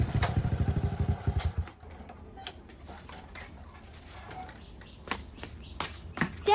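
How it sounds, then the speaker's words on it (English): Motorcycle arriving at a gate, its engine putting rapidly for a moment before cutting out, followed by quiet clatter, faint bird chirps and sparse knocks. "the sound of her dad's motorcycle reached the gate"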